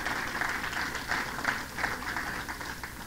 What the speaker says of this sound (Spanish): Dale ese aplauso al Señor.